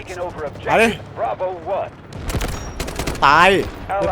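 Rapid AK-12 rifle fire from the Delta Force video game: sharp, loud bursts crackle in quick succession mid-clip, mixed with excited voices talking over and between the shots.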